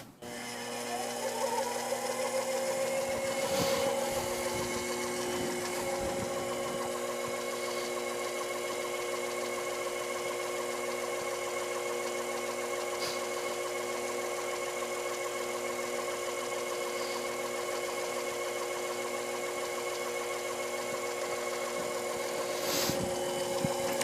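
A boring cutter on a machine tool, rubbing at the base of a hole, gives a steady close mechanical whine and hum with harmonic tones and occasional faint scrapes, continuous throughout.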